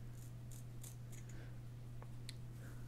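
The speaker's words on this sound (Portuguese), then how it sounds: "Será que tá dando pra escutar o barulho da tesoura?" Scissors trimming a beard up close in a quiet room, a series of short crisp snips over a steady low hum.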